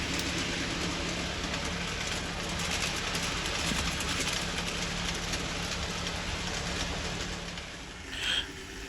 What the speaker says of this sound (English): Here is Western Enterprise on a down express.